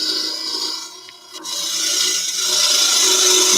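Woodturning gouge cutting into spinning wood on a lathe, a steady broad hissing, shaving scrape that dips briefly near the middle and then runs on loud and continuous.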